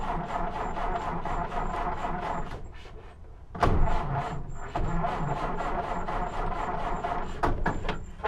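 A 1929 Ford engine cranking over without catching, a repetitive churning starter rhythm that breaks off briefly midway and then resumes, close and fairly loud, with a few sharp knocks.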